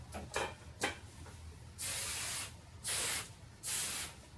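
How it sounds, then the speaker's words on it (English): Hairspray misted onto hair styled into beach waves: three steady hissing sprays of roughly half a second each, separated by short pauses. Fainter clicks and handling noises come first, and the whole thing is quiet and close. "Spray again."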